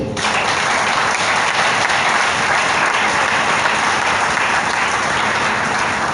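A church congregation claps steadily in a dense, even wash of applause that starts abruptly and holds at a constant, fairly loud level without pause.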